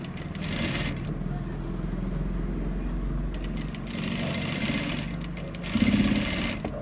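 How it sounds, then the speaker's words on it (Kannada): Sewing machine stitching fabric piping, running steadily and close throughout with a continuous mechanical hum and rapid needle chatter, briefly louder near the end. "ಹಂಗೇನೆ ಹೊಲಿಗೆ ಹಾಕೊಂಡು ಹೋಗ್ತಾ ಇರು"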